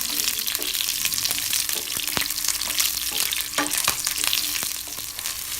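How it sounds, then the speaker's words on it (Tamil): Urad dal, chana dal and chillies fry in hot oil for lemon rice, a loud steady sizzle with scattered stirring clicks throughout. "நெக்ஸ்ட்டு உளுத்தம்பருப்பு, கடலைப்பருப்பு ஆட் பண்ணி ஃப்ரை பண்ணிக்கலாம்."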